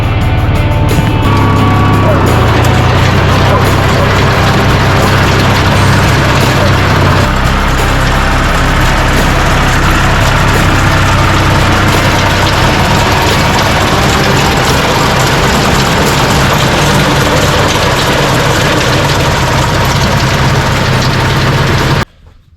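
A tractor engine drives a haybine through the PTO shaft, a loud, steady low rumble and mechanical drone running continuously before cutting off abruptly at the end.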